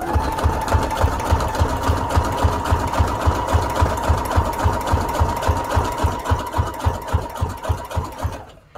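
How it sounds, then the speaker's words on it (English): A sewing machine runs a zigzag stitch while junk journal tags are made, giving a close, steady, rapid mechanical thumping with an even rhythm that carries on for about eight seconds before stopping abruptly. "let's do the zigzag stitch that we need"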